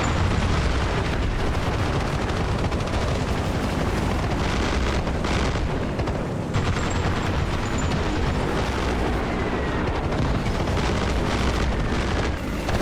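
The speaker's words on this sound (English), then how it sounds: "The battle rages on across the entire map as both sides call in airstrikes and fire missions." Airstrikes and artillery explosions from the video game Armored Brigade II, a dense, continuous roar of overlapping booms and blasts that keeps up loudly for the whole stretch with no pauses.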